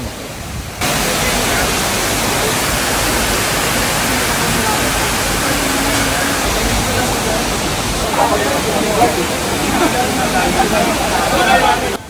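Steady rush of a waterfall beside a buffet dining area at Villa Escudero, Tiaong, Quezon, loud and broadband, with a faint murmur of voices in the background and brief quiet at the start.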